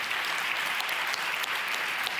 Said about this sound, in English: all the business leaders who are now applauding